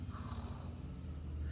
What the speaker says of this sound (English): Now, when Jack heard the snoring,